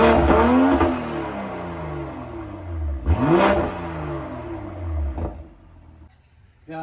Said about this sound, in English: Let's get a couple revs now that it's warmed up.